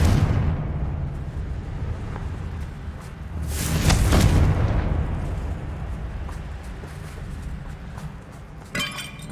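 A Confringo spell explosion in the Hogwarts Legacy video game bursts into a loud, rumbling blast midway, then fades into a long rolling decay, with a sharp crackle near the end and no voices.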